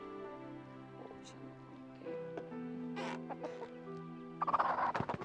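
A frightened hen clucks and squawks in short bursts at close range, growing louder and more agitated toward the end, while a person speaks softly to calm it.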